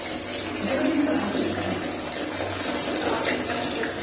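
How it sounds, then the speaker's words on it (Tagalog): Tap water runs steadily into a container for collecting and carrying upstairs, a continuous broadband splashing hiss at moderate level with no talk over it. "Mag-ipon tayo ng tubig kasi dadalhin ko sa taas."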